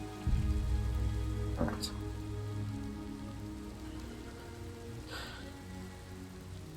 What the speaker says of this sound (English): I like how it's raining so much now.